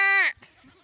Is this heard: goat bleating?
yes